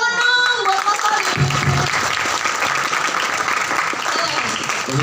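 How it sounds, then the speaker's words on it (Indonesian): Audience applause at a Bakesbangpol East Java talk show, a steady burst of clapping from a crowd filling the whole stretch, with a host's voice briefly heard at the start. "tepuk tangan dong buat Mas Arif"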